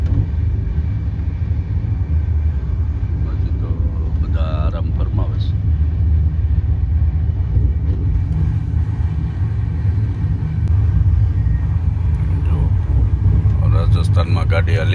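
A low, steady rumble fills the inside of a moving passenger train, continuous and close, with voices talking over it.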